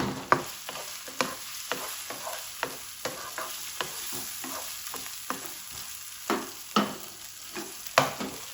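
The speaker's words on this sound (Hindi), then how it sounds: "अब इसको तकरीबन 1 मिनट भूनेंगे कि ये जो टमाटर डाले हैं ना थोड़े से नरम पड़ जाए" Tomato and liver frying together in a pan: a soft, continuous sizzle under regular, sharp taps and scrapes of a spoon stirring, about a dozen strokes in steady rhythm, fairly quiet and with no talk.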